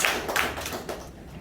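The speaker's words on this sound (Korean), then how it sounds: "김명수 원장님 다시 한번 큰 박수로 감사의 박수 부탁드리겠습니다" A seminar-room audience gives brief thanks to a lecturer with a short burst of hand clapping that starts fairly loud and quickly thins out and fades.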